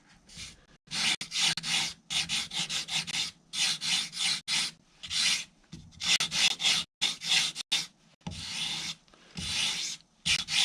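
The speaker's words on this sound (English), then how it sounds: "Try not to over sand." A flat sanding block working a glue bump off a model aircraft wing, steady loud rasping strokes in regular back-and-forth bursts with short pauses between, close and alone.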